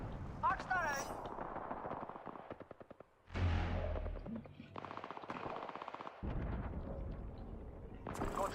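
An arc star grenade going off amid a battle royale firefight: bursts of rapid gunfire, a sharp crackling electric blast near the middle, and more shooting afterward, with voices talking over parts of it.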